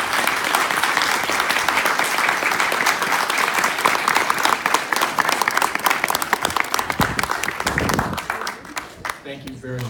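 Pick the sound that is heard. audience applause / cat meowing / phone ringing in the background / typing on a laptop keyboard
audience applause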